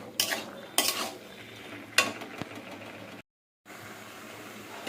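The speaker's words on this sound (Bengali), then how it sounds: "এবার আমি নাড়িয়ে নেবো।" Flat beans and potatoes are stirred in a pan for a curry, with a few scraping bursts of a spatula against the pan, a quieter stretch between them and a brief silent gap near the end.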